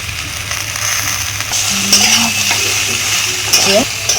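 Jackfruit and fried potato cooking with spices in a pan for a curry, a steady sizzle under clinking spoon-against-pan stirring, close and fairly loud.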